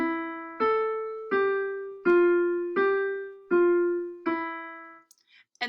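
A piano plays the first measure of a beginner's song as seven evenly spaced single notes, each struck cleanly and left to ring and fade, with a brief quiet tail after the last note.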